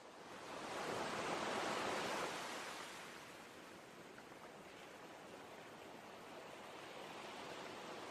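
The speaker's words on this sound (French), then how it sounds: "des vagues." Steady ocean surf off the Breton coast near the Ar-Men lighthouse, a broad continuous wash of breaking waves that swells louder in the first seconds and then settles into an even roar with no voices.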